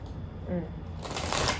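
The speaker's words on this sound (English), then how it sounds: "Let's get one more shuffle." A deck of tarot cards is shuffled in a short, close riffle that starts as a brief flutter and ends in a bright, crisp burst of cards slapping together.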